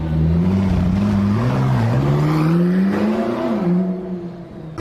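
A toy Ferrari car plays a loud, steady electronic engine whine whose pitch rises and dips in smooth waves, close up and continuous for several seconds.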